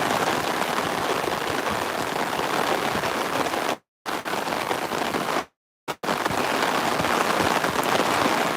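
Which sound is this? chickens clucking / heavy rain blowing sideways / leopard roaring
heavy rain blowing sideways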